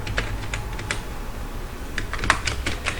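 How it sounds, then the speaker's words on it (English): Quick, close keystrokes clatter on a computer keyboard while a search term is entered in a browser, an irregular burst of crisp clicks with short pauses and no voice. "here in the search tab, just type"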